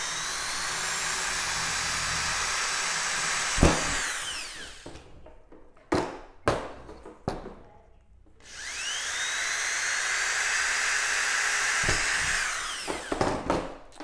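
A power drill whines steadily as it bores through PVC pipe on a hatching cage, stops with some clicks and handling noises, then drills again for another long run.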